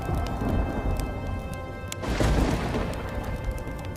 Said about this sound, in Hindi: और जोर जोर से बिजली कड़कने लगती है।